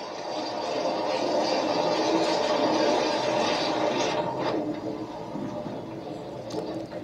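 A train rolls over the tracks with a man lying between the rails, a loud sustained rumble and rattle that swells then gradually fades, heard alone without talk.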